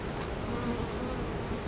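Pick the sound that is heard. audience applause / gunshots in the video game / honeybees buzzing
honeybees buzzing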